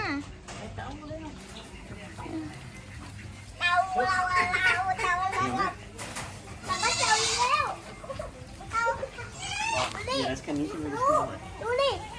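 Goats bleat repeatedly at a cafe petting area in Sattahip, the quavering calls close and loud in bursts, mixed with excited children's voices and chatter around them.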